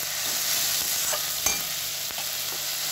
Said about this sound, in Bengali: তরকারিটা ভাজতে দেবো।